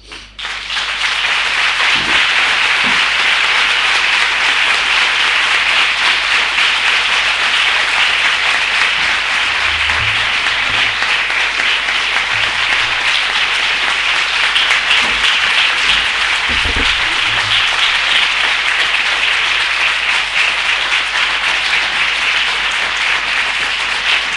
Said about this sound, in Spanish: El aplauso sostenido para agradecer y despedir de este seminario a Francesco Tonucci